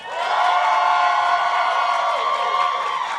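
Studio audience at a flavor debate vote, cheering and whooping loudly and steadily throughout, a dense crowd roar with no pauses.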